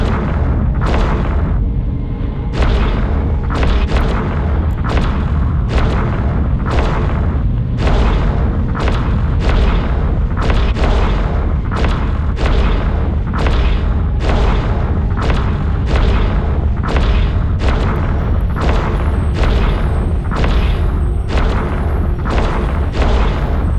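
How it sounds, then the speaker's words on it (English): Ship weapons in the space game Eve Online pound a generator with a steady, rapid string of loud, heavy booming blasts. The shots come one after another with almost no gaps, and no one speaks. "Activate your primary weapon to destroy the generator."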